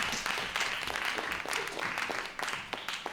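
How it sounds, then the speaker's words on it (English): Panel audience at a Culturescapes 2025 festival event applauding steadily, a dense wash of claps sustained at even loudness for a few seconds. "applause"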